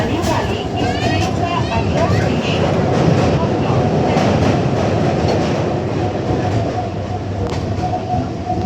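Inside a moving, nearly empty train, a loud steady roar and rattle of wheels on rails continues throughout, and a person talks over it.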